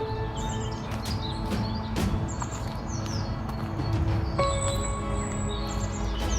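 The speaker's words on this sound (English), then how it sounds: "Sometimes you just need to shut up and listen to the birds" Several birds chirp and whistle in bright, repeated phrases along a quiet walking route near a town, over a steady outdoor background hum, clear and fairly close throughout.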